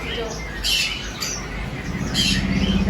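A parrot in a pet shop at a Navsari bazaar gives short harsh squawks, about three bursts over a busy, noisy background.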